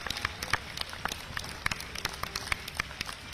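Scattered, distant clapping from housing-society residents on their balconies and standing in a park, heard as a steady patter of individual hand claps echoing outdoors.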